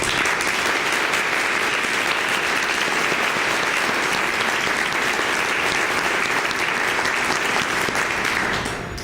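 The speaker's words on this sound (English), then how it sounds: "Please join me in a round of applause for your team." A large audience applauds a team at an organisation's annual address, a dense, even wash of clapping that holds steady and loud from start to finish before easing at the very end.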